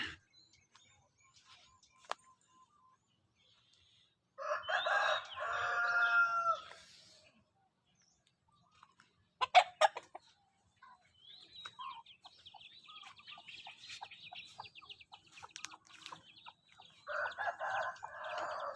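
Chickens cluck and a rooster crows in short bursts separated by quiet stretches, with scattered faint calls in between.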